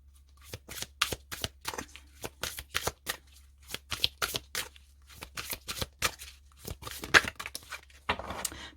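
Tarot cards being shuffled by hand in a quiet room, a long run of crisp riffling bursts in irregular rhythm, close and clear, with no talking.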